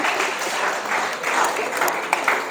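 Steady applause from a crowd, dense clapping at an even level throughout with a few sharper claps near the end.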